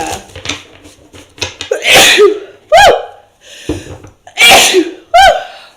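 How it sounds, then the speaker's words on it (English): Several loud, sharp sneezes close by, spaced a second or so apart, with quick breaths and small sniffs between them. "My goodness, the sneezes today."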